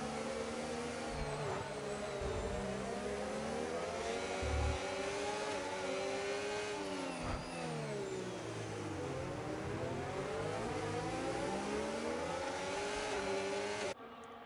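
On-board engine of a McLaren Formula 1 car in F1 25 at the Singapore Grand Prix, a continuous high whine rising and falling with gear changes and throttle, heard alone and steady.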